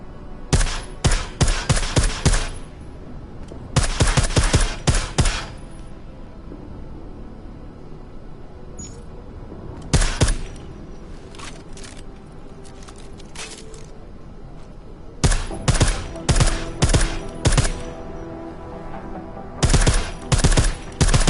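Suppressed gunfire in Deus Ex: Mankind Divided, rapid clusters of sharp muffled shots in bursts of several rounds, separated by quieter gaps of low ambient hum.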